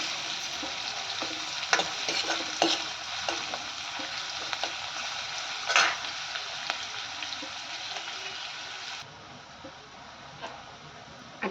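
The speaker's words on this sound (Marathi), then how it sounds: "छान परतून घेऊया" Onion being sautéed in a pan for a sprouted moong curry, a continuous bright sizzle with regular spatula scrapes and clicks that fades slightly near the end.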